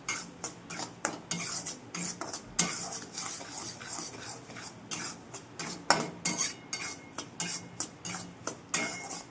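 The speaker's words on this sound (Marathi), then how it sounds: "सतत हलवत आपण रवा भाजून घेतलेला आहे" Semolina (rava) being stirred and dry-roasted in a pan, with a steady run of close, scraping and clinking strokes of a spoon against the metal, repeating in a quick irregular rhythm throughout with no voices.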